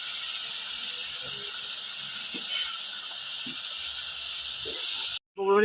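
Garlic paste sizzling in a hot pan of oil, a steady loud hiss of frying that runs unbroken, close up, with faint clatter beneath and a sharp cut near the end.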